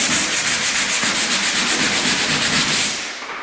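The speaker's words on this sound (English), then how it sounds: "The second option is going to be this sander on a stick here." A pole drywall sander with a rotating head and sandpaper is rubbed along a wall, making loud, close, rhythmic scraping strokes that fade out at the end.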